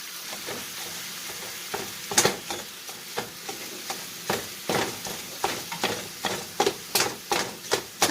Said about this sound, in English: So that's 1 pound of hamburger meat. And we're going to cook it until no pink shows.